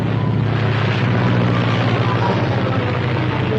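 A steady propeller-plane engine drone with a low, throbbing hum, constant and fairly loud throughout, no other sounds standing out.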